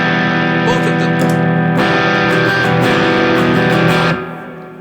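An overdriven electric guitar through a J Rockett APE analog preamp pedal rings out with sustained, saturated chords and a few strummed changes, loud and close, before fading as the notes decay.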